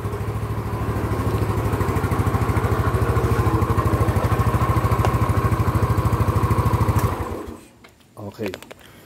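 A motorcycle engine idling while warming up, fitted with a racing spark plug, a steady close putter for about seven seconds before it cuts off, followed by faint handling noises.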